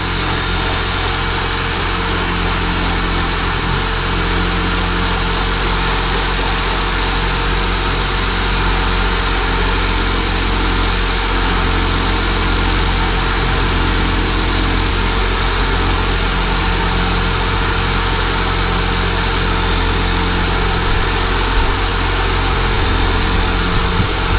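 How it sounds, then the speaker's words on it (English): A steady, loud electric drill runs without pause throughout while restoring faded, oxidized motorcycle plastic, a constant whine with a low rumble beneath. "Hopefully you can hear me over the drill."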